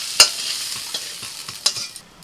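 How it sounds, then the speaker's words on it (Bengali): Prawns frying in a pan with salt, a loud close sizzle broken by sharp stirring scrapes and clinks, fading off toward the end, with no talking. "চিংড়ি মাছ ভাজা হয়ে গেছে"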